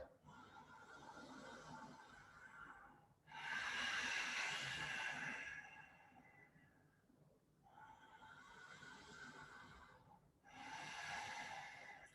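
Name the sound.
ujjayi breath, yoga breathing with throat constriction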